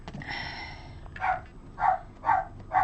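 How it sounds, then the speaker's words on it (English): Several sharp dog barks come in a quick regular series, fairly close, after a short whine-like sound at the start. "the dogs always know when he comes, so hence you've just heard the barking"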